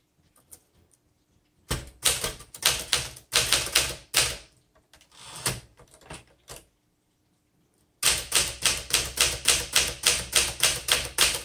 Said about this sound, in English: This one, on this particular typewriter, it's bouncing right back up, which is a good sign for a typewriter.